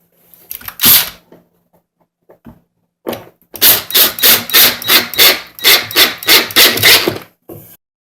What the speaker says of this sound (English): Next, you want to insert your H4 screw into the hole of your chrome corner